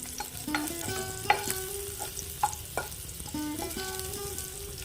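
Four slit green chilies frying in hot oil, a close, continuous sizzle broken by stirring scrapes and occasional utensil clinks.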